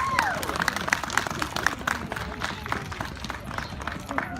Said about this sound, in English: Can you give a round of applause for Kira?